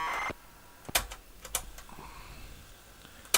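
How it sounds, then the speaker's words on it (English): A cassette tape and its player give off a few sharp mechanical clicks, sparse and irregular, standing out against a faint background hiss. "Listen to me clicking the tape here."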